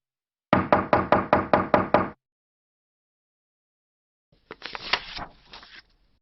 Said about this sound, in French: on frappe à la porte